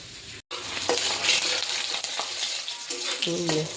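Onions fry in a wok with a close, continuous sizzle, while a few light clinks and faint background voices sound over the crackle.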